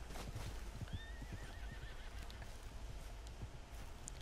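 A horse whinnies once in a western video game, a faint, wavering neigh with soft hoof clip-clops and quiet background ambience around it.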